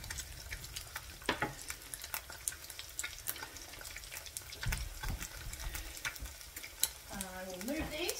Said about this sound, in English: So while the eggs are cooking,